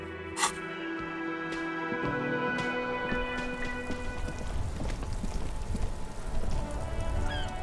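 Rain in the Disco Elysium video game, a steady, soft patter and hiss of falling rain that keeps going the whole time, with faint musical tones and occasional small thuds layered over it.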